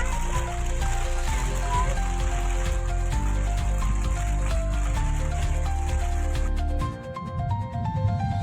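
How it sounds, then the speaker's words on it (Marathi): Rain patters and drums on a car during a road trip near Ujjain in a storm with lightning. The patter sits over a loud, steady low rumble from the moving vehicle and eases briefly near the end. "पाऊस."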